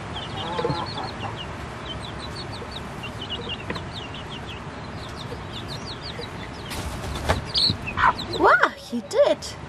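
A mother hen clucks among her chicks, whose high, thin peeps repeat in quick runs, with louder clucking and calls building near the end.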